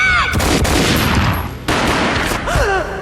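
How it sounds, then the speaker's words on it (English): A loud, close gunshot bursts out in Max Payne, followed by a rolling boom and a second crack, with brief warped slow-motion tones at the start and end. "A gunshot boomed and she fell down in slow motion."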